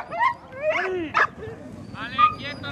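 A female dog barks and yelps repeatedly, several sharp high-pitched barks and whines close by, heard outdoors during an event in Los Prados, Albacete, with people talking over and around it.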